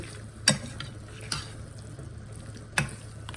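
Mutton keema stirs with masalas in a pot, with a soft background sizzle and three sharp spoon knocks against the pot, close by.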